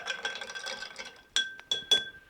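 A bar spoon stirs a cocktail in a mixing glass with ice, a busy rattle and swirl of ice followed by three bright, ringing clinks of metal on glass, close and clear.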